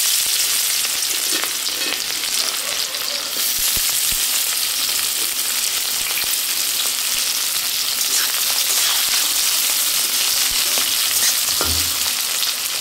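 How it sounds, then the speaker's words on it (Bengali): Sliced onions hit hot oil already tempered with cumin seeds, dried red chilli and bay leaf, giving a loud continuous sizzle and crackle with occasional stirring scrapes, close up and without talk. "এবার আমি পেঁয়াজ দিয়ে দেবো"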